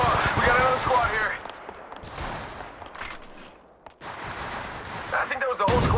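Bursts of automatic gunfire in Apex Legends crackle loudly in rapid volleys, with a brief lull mid-way before heavy shooting resumes, mixed with voices speaking.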